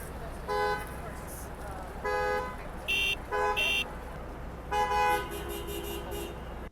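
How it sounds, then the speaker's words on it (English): Car horns honk in New York City traffic, with several short, loud toots in irregular bursts over a low steady roadway rumble, some blasts overlapping and one longer sustained honk near the end. "Horn honking is the local love language."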